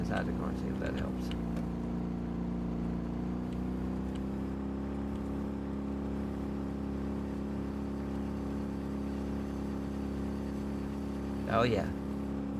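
A car engine runs steadily in the DayZ video game, a constant low droning hum heard from inside the vehicle while a person talks over it.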